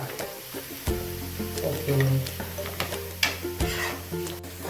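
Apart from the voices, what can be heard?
tomatoes and green chillies sautéing in a pan for shakshouka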